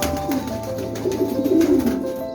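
Bursa tumbler pigeons coo softly and continuously amid a busy background of wingbeats and fluttering, close by, with no one speaking.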